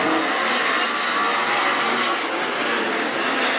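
410 sprint cars roaring around Attica Raceway Park during a heat race, a loud, dense, continuous engine howl that fills the whole stretch with no pauses.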